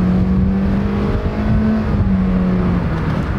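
A Honda SUV with a CVT transmission pulling away from a stop, its engine holding a loud, steady drone at a nearly constant pitch as it accelerates.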